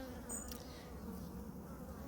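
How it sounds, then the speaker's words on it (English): A wasp buzzes near a beehive with a continuous close, droning hum that stays steady throughout, quiet and alone. "Oh, there's a wasp."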